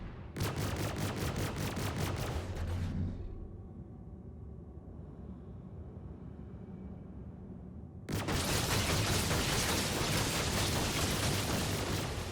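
Rapid bursts from a ship's guns aboard a Freelancer in Star Citizen, a dense fast-firing clatter for about three seconds, a pause of low hum, then another sustained loud volley of rapid shots.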